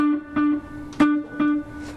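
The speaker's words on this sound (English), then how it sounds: "So delay is basically echo," A guitar tone through a Boss delay pedal with a few spaced repeats, each note echoing back at similar level, plucked notes followed by their delayed copies; no voices.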